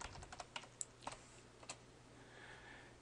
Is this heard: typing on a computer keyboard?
yes